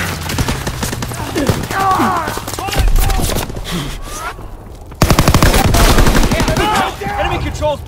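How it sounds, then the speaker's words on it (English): Rapid machine gun fire from an enemy strafing run during a Call of Duty WWII multiplayer match, loud and close in dense bursts, with voices in the mix. "Enemy strafing run inbound."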